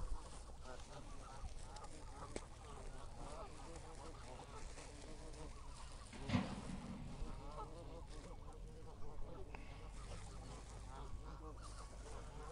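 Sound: ducks squabbling while being fed

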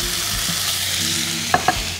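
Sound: pork gyros frying crispy in a pan

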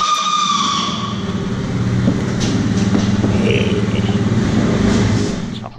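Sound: scooter engine running and riding

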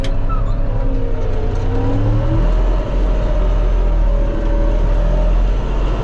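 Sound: Deutz tractor engine running in a field

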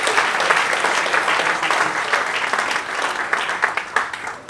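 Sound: congregation applause

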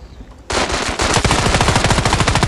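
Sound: gunfire in the video game Standoff 2

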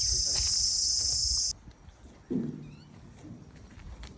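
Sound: crickets chirping at a mango farm

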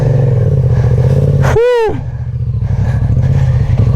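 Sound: motorcycle engine

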